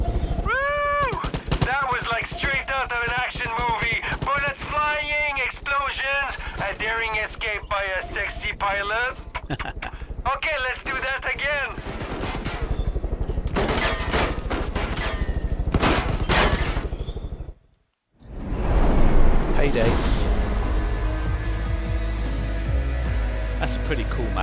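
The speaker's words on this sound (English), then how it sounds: "That was like straight out of an action movie. Bullets flying, explosions." Heavy gunfire and explosions from the video game Far Cry New Dawn during the Walking Horse Nuclear Plant expedition, dense and continuous, with game voices over the first half and a brief dropout to near silence before the noise returns loud.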